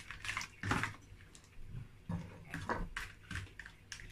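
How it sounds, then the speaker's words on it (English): Prawns and crab tip into okra soup stock with soft, irregular splashes and wet plops, fairly quiet and close, coming in several short bursts with no talking. "And now I'm going to pour my prawns and crab."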